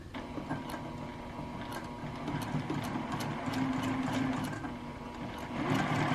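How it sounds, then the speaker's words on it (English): Sewing machine running a quarter-inch seam on a quilt block, a soft continuous motor hum with light rhythmic ticking of the needle, steady and fairly quiet. "so less air sewing, more regular sewing"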